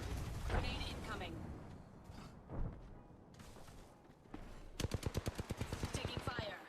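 Apex Legends gunfire arrives in scattered impacts and bursts, with character voice lines over it, then builds into a loud, evenly spaced rapid stream of automatic shots.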